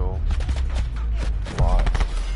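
Shots from the Stingray gun in a video game crack in quick succession, loud and close, heard over a heavy low rumble with a voice speaking over it.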